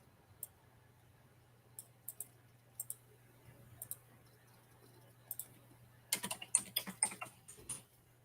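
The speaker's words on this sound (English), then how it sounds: "I'm going to have to buy a new keyboard so Sass can't make fun of me anymore" Quiet, scattered clicks of keys being typed on a computer keyboard, coming in short irregular bursts. A rapid flurry of keystrokes near the end is the loudest part, over a steady low hum.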